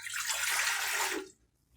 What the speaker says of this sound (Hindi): चिकन को गलाने के लिए हम 4 गिलास पानी लेंगे।